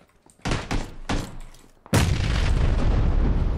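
In the video game PUBG: Battlegrounds, a few dull thuds are followed by a sudden loud grenade blast that leaves a sustained roaring rumble behind it.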